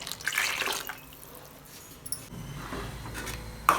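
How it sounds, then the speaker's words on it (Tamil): Rinse water from a mixer jar pours and splashes into a pot of river fish curry, with faint drips and a short clink near the end. "மிக்ஸி ஜாரை கழுவி ஊற்றிக்கலாம்"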